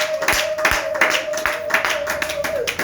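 Church congregation applauding, steady rhythmic clapping at close range over a sustained tone, with voices mixed in.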